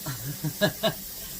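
Steam hisses from the jiggler on a pressure canner at 10 pounds while Mexican chicken is processed, a steady breathy hiss with two short louder puffs, heard under quiet speech.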